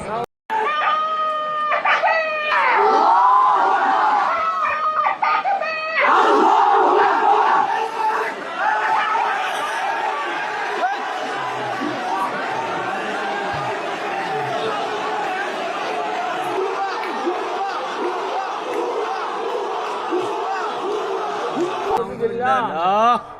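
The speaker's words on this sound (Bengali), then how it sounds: "ভুয়া ভুয়া ভুয়া বলে স্লোগান দিয়েছিল তারা।" A large crowd of young men chanting slogans in unison: loud, rhythmic shouted calls carry over a constant roar of many voices and go on for the whole stretch.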